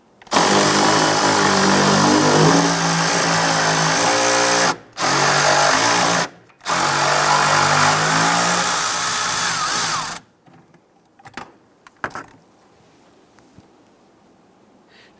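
A power tool whirs loudly while loosening and removing a bolt on a Jeep Grand Cherokee, running in three long bursts broken by short gaps, then falling quiet apart from a few soft clicks and handling noises.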